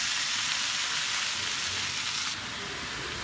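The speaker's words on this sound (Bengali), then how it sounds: "এখন আমি শাকটা ঢেলে দিচ্ছি।" Red amaranth greens tip into a hot oiled frying pan after frying potatoes, raising a loud, steady sizzle that holds throughout, then eases slightly near the end.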